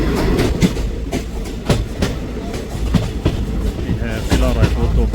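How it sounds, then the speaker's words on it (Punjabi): Rhythmic clickety-clack of a Ludhiana–Churu local passenger train moving off from Kila Raipur, loud and close, with a voice speaking over the steady rumble. "ਕਿਲਾ ਰਾਏਪੁਰ ਤੋਂ ਟ੍ਰੇਨ ਜਿਹੜੀ ਉਹ ਚੱਲ ਪਈ ਹੈ ਜੀ"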